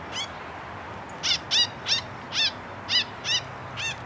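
A small bird caught in a mist net gives a series of sharp, loud distress calls, about seven harsh squawks in an irregular rhythm, close up with no talking.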